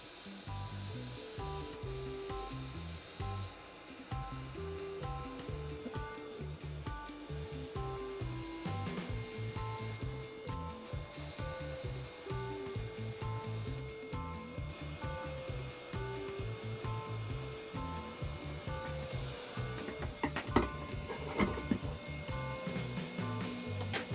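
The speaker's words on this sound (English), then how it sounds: "Use hot air just to heat the area." A hot air rework gun heats a circuit board during repair of an ultrasonic diffuser humidifier, a continuous rushing blow of air that stays close and steady throughout, with faint tonal music-like hum beneath it.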